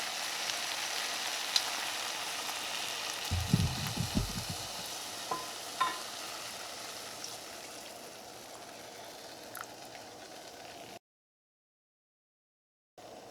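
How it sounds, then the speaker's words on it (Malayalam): Vegetable stew with cow's milk coming to a boil on a high flame, a steady low bubbling and sizzle throughout with a brief louder clatter of stirring near the start. "ഇപ്പോൾ ഇത് തിളച്ച് തുടങ്ങിയിട്ടുണ്ട്."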